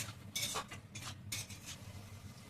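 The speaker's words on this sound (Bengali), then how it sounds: "সেদ্ধ করে রাখা মটরশুঁটিটা এখন দিয়ে দিচ্ছি, দিয়ে নেড়ে নিতে হবে" Boiled green peas stirred with spices in a pan, with soft scraping and clinking of a spoon against the pan in a few brief bursts, quiet and close, with no talking.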